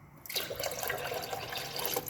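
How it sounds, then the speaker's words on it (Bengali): A can fills with water from a tap, a steady close rushing splash that starts abruptly after a short pause and keeps running evenly. "তো এটা ভরে এখন পানি নিয়ে আসবো।"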